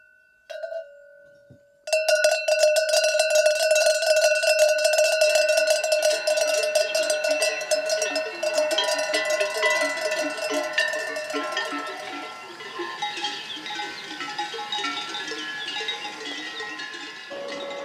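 Handmade cowbells clang and jingle in a dense, continuous metallic clatter after one short test strike, the ringing loud and close, tapering slightly toward the end with no talking.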